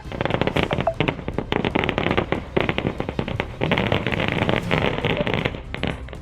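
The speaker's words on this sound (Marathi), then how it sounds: "फटाक्यांची आतिषबाजी करून आनंदोत्सव साजरा करण्यात आला" Firecrackers and fireworks set off in a street celebration outside a municipal building crackle in dense, rapid bursts of sharp pops, loud and near, continuing almost without a break with no talking.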